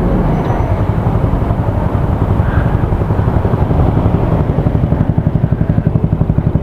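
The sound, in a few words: SC Project exhaust with two silencers on Vegaforce FI motorcycle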